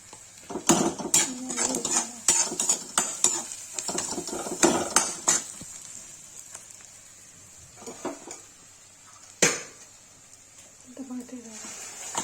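A metal spoon scrapes and clinks against a pan while onions for egg curry are stirred, the clatter coming in busy bursts near the start and thinning later, with a voice talking intermittently.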